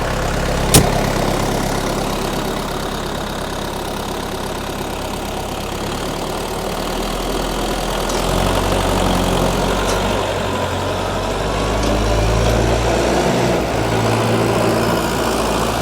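A DTZ 5404 tractor engine runs at about 1700 rpm while ploughing a field, a loud, continuous low diesel rumble that swells slightly in the second half, with a sharp click near the start.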